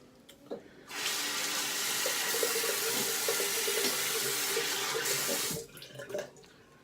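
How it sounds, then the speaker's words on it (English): Water runs from a bathroom tap for about five seconds while a face is rinsed after shaving, a steady close hiss with faint splashing and brief handling noises before and after. "I'm going to rinse the face"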